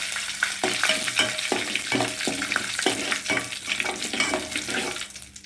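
Curry leaves dropped into a mustard seed tempering for gongura roti pachhadi crackle and sizzle loudly and close, with a rapid run of popping bursts that fades out at the end.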